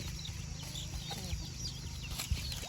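Native country hens with their baby chicks, soft scattered clucks and chirps from several birds at moderate distance over a steady low hum, with no talk.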